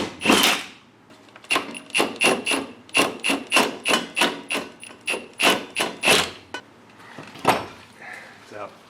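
Repeated hammer blows knocking a bolt out of a Ford 9 inch rear end, about a dozen sharp metallic strikes in a steady rhythm, loud and close, with a brief pause before a final hit.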